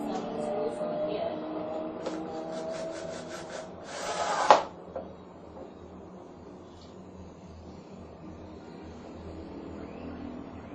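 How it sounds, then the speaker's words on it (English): Screws being driven into wood while building a chicken brooder, heard as a steady rubbing, rasping drive with a brief louder burst and a sharp knock near the middle, then quieter work noise. "I have measured and I'm putting some screws over here."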